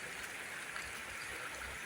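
Foix river at Les Trones flowing at an ecological flow of 1.5 cubic metres per second, a steady, faint broadband rush of running water with no other sounds.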